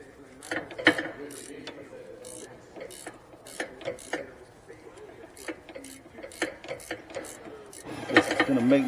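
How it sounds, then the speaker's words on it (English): Ratchet wrench backing a nut off a Honda Odyssey front strut: a steady run of quick metallic clicks in short bursts, close and fairly quiet, with faint background noise. "It's going to make me wrench it all the way off."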